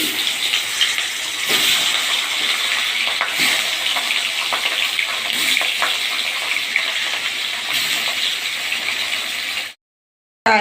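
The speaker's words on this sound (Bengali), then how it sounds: "এবার তেল গরম হয়ে এসছে, একে একে আমি মাছটা দিয়ে দিচ্ছি।" Katla fish fries in hot oil, a steady, loud hiss and sizzle with occasional crackles and pops, running continuously before stopping abruptly.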